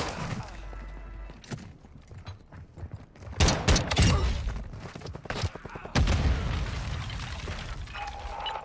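Gunfire in the DMZ video game aimed at the hands of shield-carrying enemies: loud, close shots in irregular bursts and clusters with heavy booms, over steady game noise and no clear talk.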